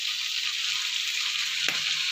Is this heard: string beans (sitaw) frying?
yes